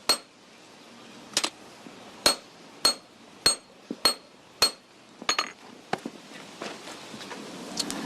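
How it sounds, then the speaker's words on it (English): Hammer blows on hot metal being stretched in width at a forge, about a dozen sharp ringing strikes at a steady, slightly uneven pace, close and loud against a quiet background. "If I use the hammer this way, it'll stretch it out more in width."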